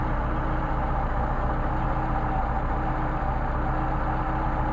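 A Mercedes 190SL engine idles on Solex carburetors during adjustment, a steady close low rumble with an even, unbroken drone and no voices.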